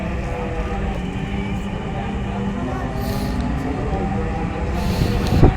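A Dhaka Metro Rail train runs between stations, its steady rolling rumble heard from inside the carriage and swelling toward the end, with faint voices in the background.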